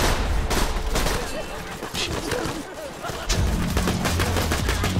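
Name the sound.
gunfire in the video game Borderlands 2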